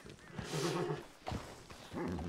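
A horse neighs in a western setting, a loud, close whinny with wavering pitch followed by a short second burst and a final rising call.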